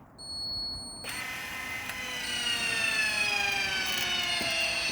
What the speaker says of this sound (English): the mover will then engage against the wheel